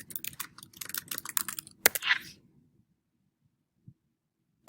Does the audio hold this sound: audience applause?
no